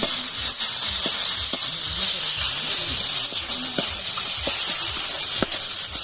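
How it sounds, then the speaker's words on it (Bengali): Spices, turmeric, salt and red chili powder, sizzle and hiss steadily in hot oil in a pan for a Bengali fish curry, a continuous close frying noise with occasional faint spoon scrapes. "পরিমাণ মতো হলুদ গুঁড়ো, লবণ, আর দিচ্ছি লাল লঙ্কা গুঁড়ো। দিয়ে সব ভালো করে আবার কষিয়ে নেব।"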